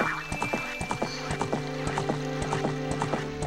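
Horse hooves pound in a steady galloping clip-clop under game music in a video game, a mounted horse running in a continuous rhythm through the whole stretch.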